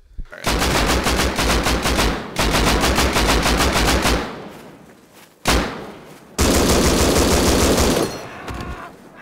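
Automatic gunfire in the video game Rust rattles in loud, dense sustained bursts with short gaps between them, close and continuous, including a sharp single crack before the last long volley.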